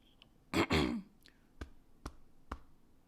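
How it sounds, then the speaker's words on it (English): A person clears their throat in one strong, harsh burst, followed by a few short, faint clicks or taps in otherwise quiet surroundings. "Gotta clear my throat."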